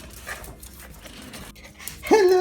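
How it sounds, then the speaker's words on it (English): A dog pants in quick breathy bursts at a home, then lets out a louder, high whimpering whine near the end, close and excited. "Puppies!"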